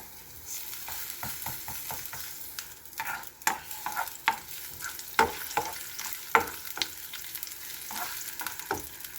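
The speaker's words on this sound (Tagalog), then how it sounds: "painit tayo ng mantika at ilagay natin tong ating sibuyas, red onions" Red onions fry in hot oil for a Filipino ginisang ampalaya with egg, giving a steady low sizzle broken by sharp scraping stirs and clicks of a utensil against the pan.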